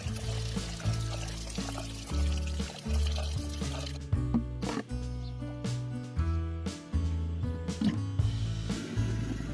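Peeled tamarind is washed in water, with close pouring and sloshing of water as the fruit is rinsed, in uneven bursts.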